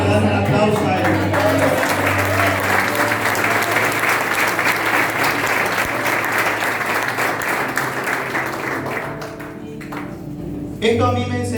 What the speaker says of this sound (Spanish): ¿Cuántos le dan un aplauso a Él?